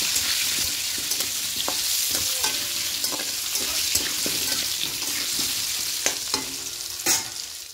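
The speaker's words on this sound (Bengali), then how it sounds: "आलूगुलोके लाल लाल करे भेजे नेब" Potatoes fry with salt and turmeric in a pan, a steady hiss of sizzling oil broken by repeated clinks and scrapes of stirring, close and moderately loud.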